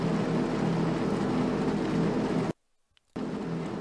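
A 1967 Formula 1 car in a sim racing game at Zandvoort gives a steady, dense engine roar during qualifying that cuts out abruptly for about half a second before resuming, with no voices.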